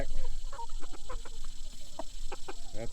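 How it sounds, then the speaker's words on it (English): Farmyard rooster clucking in a series of short, choppy calls close by, with a steady background hum and occasional rustling. "That's our rooster too."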